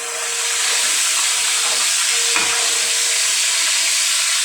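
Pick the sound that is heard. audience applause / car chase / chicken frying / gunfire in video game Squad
chicken frying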